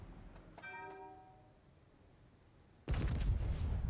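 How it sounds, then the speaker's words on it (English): Tier 5 battleship main guns in a naval video game, a single heavy blast arriving late after a short ringing tone, booming loud and sustained with rumbling decay. "Firing on the PV."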